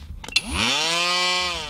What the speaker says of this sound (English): I'm going to cut along the seam of the battery all the way around using my oscillating tool.